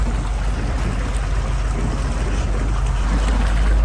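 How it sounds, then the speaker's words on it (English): Constant loud rumbling and rattling inside an early Ford Bronco bouncing over rough off-road terrain, a loose cooler shaking among the dense low road and engine noise, with no pauses and no talk. "Dang, that cooler makes a lot of noise."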